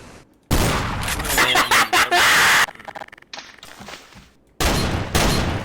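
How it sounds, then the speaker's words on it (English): Shotgun fire in the video game Garry's Mod: loud, close blasts with ringing tails, separated by brief quieter gaps and rounded off by another heavy burst. "This is a good shotgun right here."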